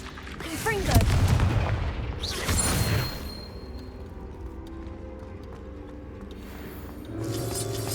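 Fire spell blasts from the video game Hogwarts Legacy, two heavy explosive bursts close together followed by a rumbling tail and a third blast near the end, over a low ambient drone.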